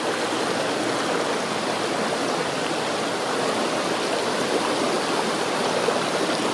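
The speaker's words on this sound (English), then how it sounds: "Nice little brook." A small brook at an old mill site in Goshen, Connecticut, runs steadily past the listener, its flowing water a close, even wash of splashing and trickling with no voices.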